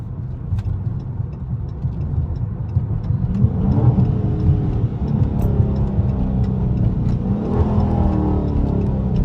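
Dodge Charger Daytona 392 Scat Pack V8 running close by, a steady low rumble with a slight rise in revs partway through, continuous and alone with no talking.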